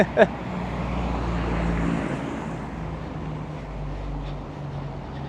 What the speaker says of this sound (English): You can see an airplane flying some type of a banner.